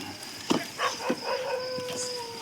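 A dog barks and yelps several times in short bursts, moderately close, over a steady background hum.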